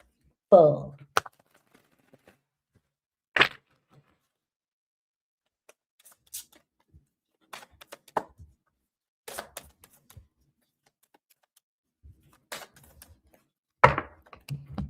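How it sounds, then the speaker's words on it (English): Sparse, brief rustling and flicking bursts of tarot cards being shuffled, with a short voice at the start and quiet gaps between shuffles. "I'm just going to get the shuffle before I start."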